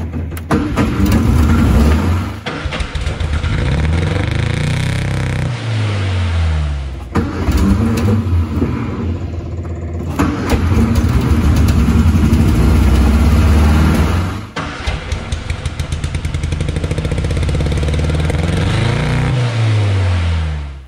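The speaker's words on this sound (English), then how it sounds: "let's turn the ignition on, give it a crank, and see what happens" A 1962 Sprite engine cranks, catches and runs in repeated attempts, starter whirring into rough revving and idling, loud and close with brief pauses between tries.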